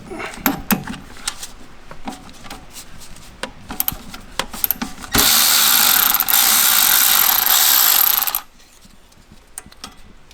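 A ratchet loosens the 12 mm ABS sensor bolt on a Nissan S15 Silvia during a coilover install. Scattered clicks and clunks come first, then about three seconds of steady, loud, fast ratcheting that stops abruptly.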